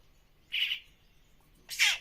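Two short, bright calls from a young pet myna, the first around the middle and the second near the end, close and fairly loud against a quiet room.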